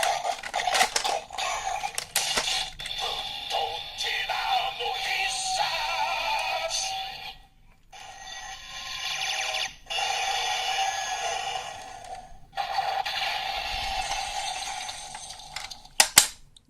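A DX Medagaburyu toy weapon from Kamen Rider OOO, switched between attack and gun modes, plays loud electronic sound effects and announcement jingles through a small speaker, with brief pauses and sharp clicks between sequences.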